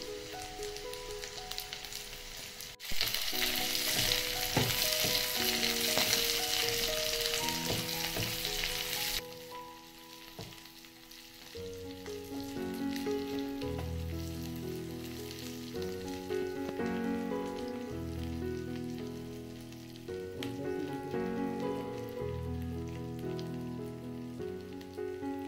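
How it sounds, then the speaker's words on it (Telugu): Green chilli pieces hit hot oil in a pan for Andhra-style prawn curry, a bright loud crackling sizzle that bursts for several seconds, then drops to quieter frying under clinking and stirring sounds. "ఇప్పుడు పచ్చిమిర్చి ముక్కలు కూడా వేసుకుంటున్నామండి."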